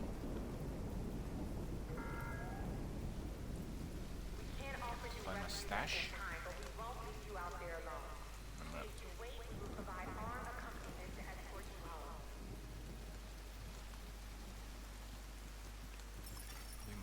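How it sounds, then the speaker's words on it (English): Heavy rain pours steadily in The Division 2 video game, a loud constant wash that fills the whole scene, while a voice briefly speaks over it and faint game tones and effects rise and fall. "It's raining really badly,"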